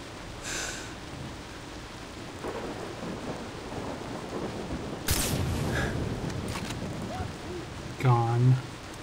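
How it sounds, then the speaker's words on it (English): Steady rain hiss with a rumble of thunder in Far Cry 3, broken by a few sharp game effects and a brief voice near the end. "Probably because it's raining."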